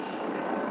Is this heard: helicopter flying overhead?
yes